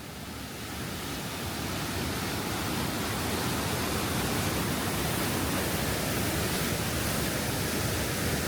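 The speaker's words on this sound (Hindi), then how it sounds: "पहाड़ के अंदर से आप ये देखें पानी निकल के आ रहा है" Fresh water gushes out from inside a mountainside along the coastal road between Kotor and Budva, Montenegro, a steady, broad rushing roar that holds at one level throughout with no talk over it.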